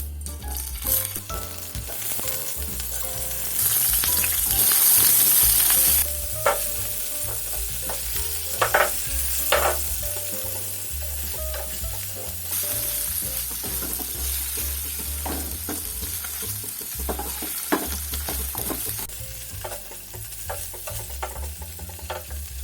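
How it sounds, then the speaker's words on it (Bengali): Paneer cubes fry in a couple of spoonfuls of oil, with a steady close sizzle throughout, a louder hissing surge early on, and repeated clicks and scrapes as the cubes are tossed in the pan. "এখানে আমি 2 চামচ অয়েল দিয়ে দিচ্ছি। এর মধ্যে আমি পনিরের কিউবগুলো দিয়ে দিচ্ছি।"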